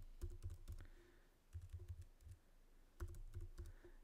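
Typing on a computer keyboard while working in Maple software: two quick runs of close, crisp key clicks separated by a short pause, with no talking.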